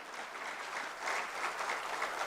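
Audience applause at a speech event, a short burst of steady clapping from a crowd at moderate distance that swells slightly toward the end.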